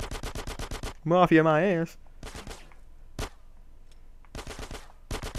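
Rapid bursts of gunfire from GTA 5 ring out during a casino robbery, with automatic volleys at the start and end and a single sharp shot in the middle. Someone shouts and talks between the bursts.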